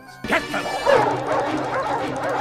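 Dogs from the animated film Up bark and yip excitedly, a loud close burst of overlapping barks and whimpers that starts abruptly and carries on mixed with a voice.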